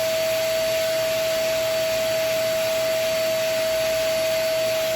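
A vacuum cleaner runs steadily on dirty rugs and floors, a loud, close, continuous whine with a sharp tonal hum, uninterrupted and without talking.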